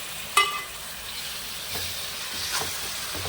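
Onions, green chilies and ginger garlic paste frying in a pan while being stirred, a steady soft sizzle with a sharp scrape near the start and a few fainter stirring scrapes later, no talk.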